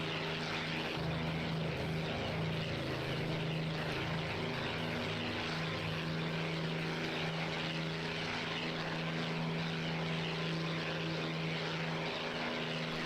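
Piston fighter engines of a P-51 and an Fw 190 in a WWII combat flight game, a steady droning propeller roar that holds throughout, moderately distant and without talk.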